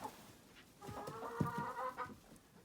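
Hens in a chicken coop cluck and murmur in a busy overlapping chorus, rising to a louder stretch of calls midway with a few sharper squawks, fairly close and without people talking.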